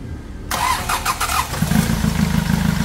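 A Hyundai D4CB diesel engine with an overheating fault cranks and fires up, a loud sudden starter whir giving way to a steady rumbling idle that carries on to the end.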